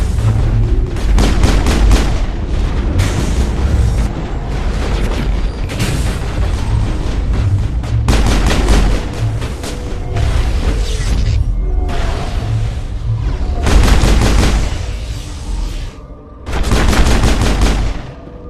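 Gunfire in Mass Effect on PC, a loud, sustained firefight of repeated rapid shots and heavy booms layered together, with a short lull near the end.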